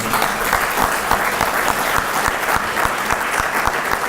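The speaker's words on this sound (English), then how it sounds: "We really should applaud for the supervisor." Sustained applause at a scholarship celebration, a full roomful of clapping honoring the supervisor with a few sharper individual claps standing out, steady throughout.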